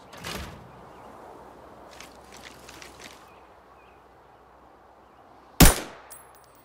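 A single loud, sharp gunshot in the shooter game Arena Breakout, standing out alone after a few faint clatters and a quiet background.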